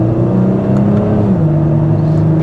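A Dodge Charger with its valved exhaust opened revs its engine in a continuous deep, loud drone, and the pitch dips slightly partway through.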